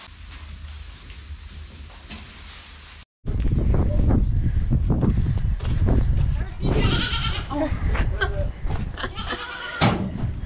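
Young kid goats bleat repeatedly in a pen on a farm, with loud, overlapping cries close by. A steady rain-like hiss comes first, and people talk among the bleats.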